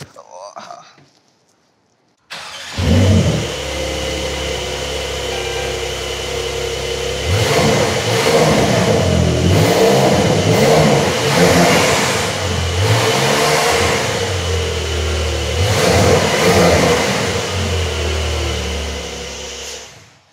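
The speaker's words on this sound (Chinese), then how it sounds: "这个引擎声不错， 似曾相识，以前的声音。" A Porsche's engine revs loud and close, rising and falling in several surges over a steady rumbling drone, with voices faintly underneath.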